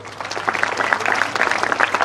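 Steady applause from a school audience at an annual prize distribution at Jagruti Vidhyalay, Banwadi, Karad, a dense patter of many hands clapping at close range for about two seconds, with no speech over it.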